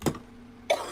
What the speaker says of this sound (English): Starting to cough from her laugh.